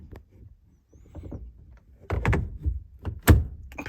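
A Momo steering wheel snapping onto a quick-release hub in a 1991 Honda Accord CB7, giving a couple of close, sharp clunks and a firm click amid light handling noise.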